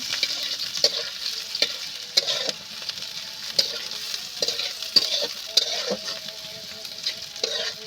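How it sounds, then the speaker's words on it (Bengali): Onion and green chillies fry in a pan while a spatula stirs them in regular, repeated scraping strokes over a continuous bright sizzle, close and clear, with no voices. "কাঁচা লঙ্কা দিয়ে আবার আমি কিছুক্ষণ এইভাবে নাড়তে থাকবো"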